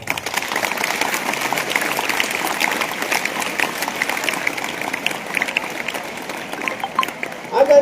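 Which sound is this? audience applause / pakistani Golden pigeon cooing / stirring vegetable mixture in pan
audience applause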